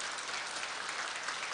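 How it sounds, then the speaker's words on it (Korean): Steady, dense applause from a large crowd welcoming officials entering a Korea University graduation ceremony, continuous and even throughout, heard from a distance in a big hall. "자리에서 일어나셔서 큰 박수로 환영해 주시기 바랍니다"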